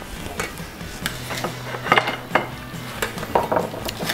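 A utensil stirs salsa with balsamic dressing in a bowl, making a run of close clinking and scraping taps against the bowl with a soft wet mixing sound between them.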